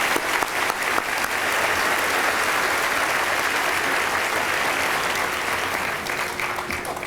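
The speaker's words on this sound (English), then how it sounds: "Can we give these people a nice round of applause?" Audience at a graduation ceremony claps steadily and loudly throughout, a dense, even wash of applause from a large indoor crowd that fades slightly near the end.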